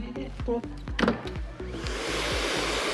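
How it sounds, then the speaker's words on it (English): A hair dryer blows hair dry during a keratin treatment in a salon, starting with stuttering bursts and handling noise, then settling into a steady loud whoosh. "now I'm gonna start blow drying"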